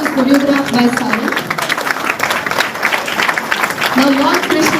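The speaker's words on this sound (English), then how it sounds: "I want you guys to keep the claps going till the end." An audience claps steadily through a cultural stage event, the applause continuing while a voice speaks over it at the start and end.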